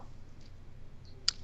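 Computer mouse: one sharp, quiet click stands out in a near-silent room.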